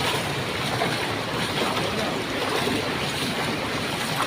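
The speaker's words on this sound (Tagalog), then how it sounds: "Umapaw ang tubig" Loud rushing floodwater from a typhoon overflowing onto the street churns and surges continuously in Pila, Laguna, with gusty wind buffeting the microphone and no talking.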